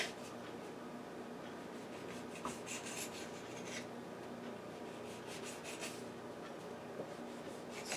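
A knife slices through soft cream cheese pastry dough on a board, producing steady close-up scraping and rubbing strokes, with faint soft taps, continuing with no one talking.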